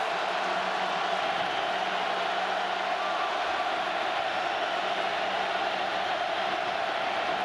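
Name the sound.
football stadium crowd roaring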